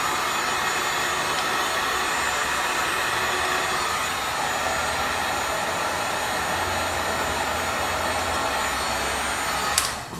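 A Suzuki GSF600 Bandit motorcycle engine runs on its first start, a continuous loud roaring hiss with a steady low throb, ending in a brief sharp crackle.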